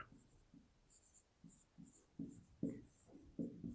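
A pen writes on paper during a math lesson, faint scratchy strokes in short irregular bursts, close and quiet with no voice over them.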